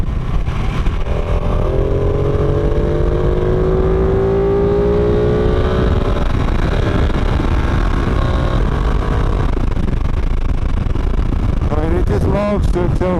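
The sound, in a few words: Ducati 959 Panigale motorcycle accelerating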